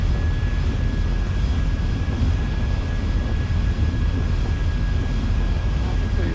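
Engines of a McDonnell Douglas DC-10-40D in Microsoft Flight Simulator run at full throttle, a steady loud jet roar with a thin high whine held throughout, while someone speaks over it.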